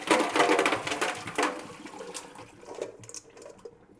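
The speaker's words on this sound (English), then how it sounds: "I take all the water out of this bowl," Water poured off a bowl of hard-boiled eggs, a splashy rush that is loud at first with a second burst at about one and a half seconds, then thins to scattered drips and trickles.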